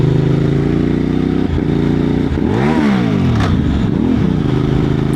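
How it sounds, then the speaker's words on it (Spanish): Moto Morini X-Cape 1200 engine revving hard, then a sudden rev flare as the quickshifter misses a gear, with sweeping pitch rises and drops over steady close engine drone. "Ahí se ha escapado una marcha con el Quick Shifter"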